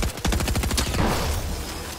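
Rapid gunfire from a bot in Fortnite on an aim-training map, a quick burst of close, loud shots in a tight rhythm, trailing off into a fading echo.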